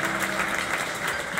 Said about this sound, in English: Let's have a round of applause for our volunteers